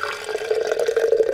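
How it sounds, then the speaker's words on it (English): Coffee being poured into a cup in a home kitchen in the morning, a steady close trickle of liquid with a rising pitch as the cup fills. "I'm only going to pour half a cup"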